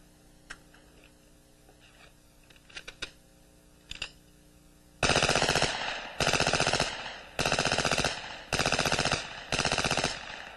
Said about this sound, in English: Fired at a rate of 900 rounds per minute, the resulting firepower available is really impressive.